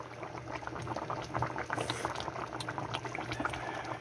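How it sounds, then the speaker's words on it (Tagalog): Ginataang tilapia, tilapia in coconut milk, bubbles at a steady boil in a pot, a dense, continuous burble of popping bubbles and liquid churn heard up close with no one talking. "Kulo na siya, ha?"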